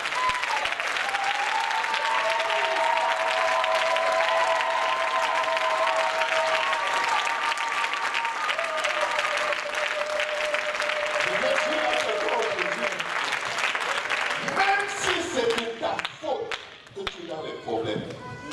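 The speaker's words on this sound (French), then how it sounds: "Est-ce qu'on peut acclamer très fort?" A church congregation applauds loudly and without a break, dense clapping filling the room while voices call out and sing over it, then the clapping thins and scatters toward the end.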